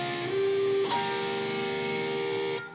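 Slow, sustained guitar notes from the opening solo, played alone: a long held note, a brighter bend or attack near the one-second mark, then another note ringing out for well over a second before stopping.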